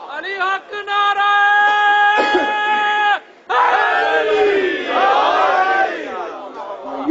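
At a religious majlis a single voice calls out a long sustained line, and a crowd answers with a loud unified shout of the slogan, followed by further rising group cries and brief pauses between bursts.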